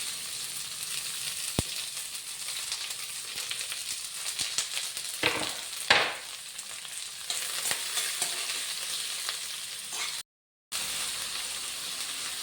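Mustard seeds, onion and green chili frying in oil make a steady crackling sizzle with occasional sharper spits and stirring scrapes, running for a while before a brief drop to silence and then resuming.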